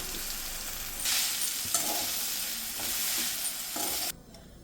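Urad dal usili, seasoned with asafoetida and salt, stirs and fries in a pan, giving a steady broadband sizzle that swells with each pass of the spoon and cuts off sharply near the end, with no voices.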